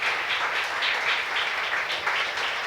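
A church congregation claps in sustained, dense applause at a Sunday service, steady and fairly loud throughout with no voices over it.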